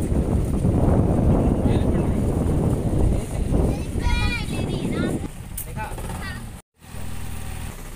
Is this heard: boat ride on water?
yes